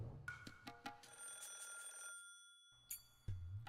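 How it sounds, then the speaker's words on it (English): A telephone rings in the Higurashi video game, giving a bright electronic trilling ring that sounds several times and then stops briefly before starting again. "As soon as I put the phone down, it rang again."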